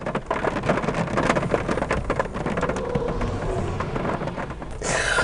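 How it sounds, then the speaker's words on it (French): Steady heavy rain falling in a forest in Belgium, a dense, constant hiss of drops that stays loud and even throughout, with no voices. "Mais il pleut. Évidemment qu'il pleut."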